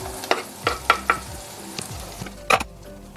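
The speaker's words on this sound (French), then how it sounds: "on va faire d'abord revenir les oignons et la cébette" Onions and spring onion sautéing in a pan, with irregular spatula scrapes and knocks over a light sizzle, close and clear.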